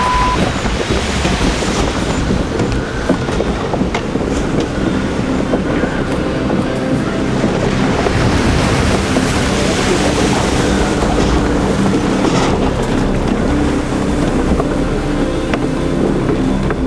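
A sailboat in a sea storm takes heavy wind and waves side-on, with loud, continuous roaring wind buffeting and rushing water surging throughout, no voices heard.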